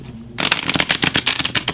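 Tarot cards being shuffled by hand, a quiet pause then a quick run of dense, crisp riffling flutters, close and loud with no talking.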